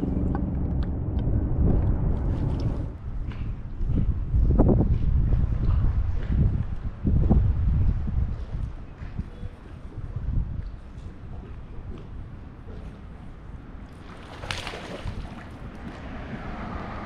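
Cold wind gusts across Oak Hollow Lake as a steady, low rumbling roar with buffeting on the microphone. It is loudest early and eases a little later, and there is no talking.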